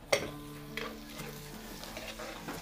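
Onions sautéing in a pan for Filipino bistek tagalog: a soft sizzle with a sharp clink of a utensil against the pan and light stirring scrapes, quiet and close.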